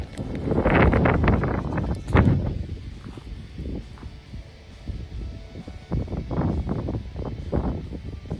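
Wind gusting across an open, dry golf course at a tee box, a loud rushing buffet against the microphone that swells, dips midway and rises again, with faint rustling beneath.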